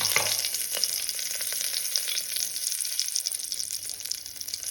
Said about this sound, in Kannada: ಹಾಗೆ ಒಂದು ಅರ್ಧ ಸ್ಪೂನ್ ಜೀರಾ ಫ್ರೈ ಆಗಿದೆ